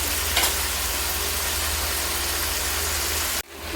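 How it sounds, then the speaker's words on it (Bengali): Bottle gourd stalks frying in a pan while being stirred, a dense, constant sizzle close up that cuts off abruptly near the end before a brief rise again. "লাউ ডাঁটা দিয়ে কিছুক্ষণ নাড়াচাড়া করব"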